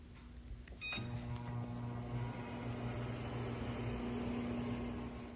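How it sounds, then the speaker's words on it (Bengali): A microwave oven running at full power, a steady hum with a faint electrical whine that starts after a brief click near the beginning and continues evenly throughout. "এই দেশে খুব ইউজ হয় মাইক্রোওয়েভ তারপর হয়ে গেলে আবার এক মিনিট ফুল পাওয়ারে চালিয়ে দেবো"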